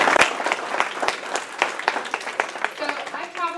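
Audience applause at a gathering, with distinct individual claps in an uneven, lively rhythm that thin out toward the end as a voice starts to speak.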